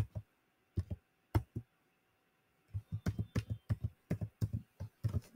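Keys on a computer keyboard are typed softly: a few separate taps, a short pause, then a quicker run of clicks.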